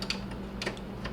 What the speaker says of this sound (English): gotta move the keyboard over